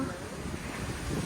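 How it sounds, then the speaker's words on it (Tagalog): Wind buffets the microphone while high sea water and waves churn steadily nearby, a brief continuous roar. "Ang taas ng tubig. Tsaka ang alon."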